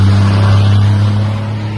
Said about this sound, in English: wait for that noisy truck to go by